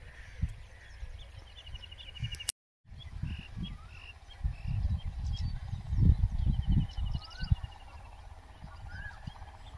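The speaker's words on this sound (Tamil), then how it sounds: "புறா புறா புறா கூட்டம்" A flock of pigeons on a farm in the morning, a busy layer of cooing, calls and rustling wingbeats at moderate distance over low rumbling background noise, with a brief dropout partway through.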